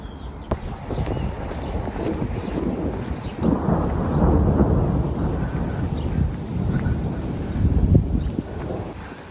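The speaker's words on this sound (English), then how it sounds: "And it's raining." Heavy rain with thunder in the Russian city of Kaluga: a loud, rumbling storm rolls on continuously, with a sharp crack near the start and a dense wash of rain and wind noise.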